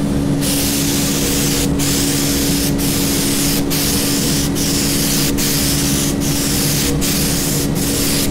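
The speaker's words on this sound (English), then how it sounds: "Now, I'm just gonna spray the whole top." A paint spray gun applying Faux Effects AquaGard across a top surface hisses continuously and loudly, with brief regular pauses as the trigger is released, alongside a steady mechanical hum.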